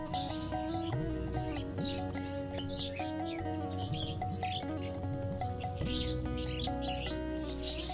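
Birds chirping in the midday countryside of Thakurgaon under cloudy skies, scattered bright tweets layered over a steady sustained tonal background.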